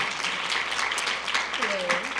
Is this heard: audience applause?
yes